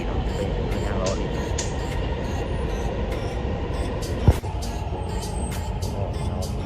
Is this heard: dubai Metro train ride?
yes